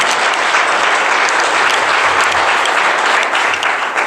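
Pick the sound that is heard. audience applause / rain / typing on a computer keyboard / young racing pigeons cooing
audience applause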